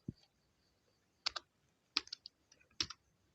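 A few sparse keystrokes click on a computer keyboard, three or four distinct taps spaced apart in a quiet room, close by.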